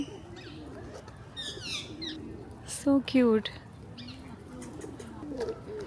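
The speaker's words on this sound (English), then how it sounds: "Look at these parrots, oh my god." Parrots call in a London park: shrill squawks and chirps ring out, with a loud burst of calls in the middle, over a steady outdoor background while a person talks briefly.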